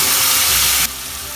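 Spice masala hitting hot oil in a pan with bay leaves, dried red chilli and cumin for cabbage sabji, giving a loud, steady broadband sizzle that drops abruptly in intensity partway through.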